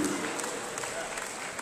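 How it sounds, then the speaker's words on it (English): Applause from an audience at an Afro Arts Show event in 2019: a steady, dense wash of clapping that fills the whole stretch at even loudness, with a voice speaking over it. "can we give him a round of applause, please?"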